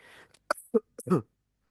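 A few short, sharp coughs or throat-clearing bursts, close and fairly loud, separated by brief pauses, with no talking.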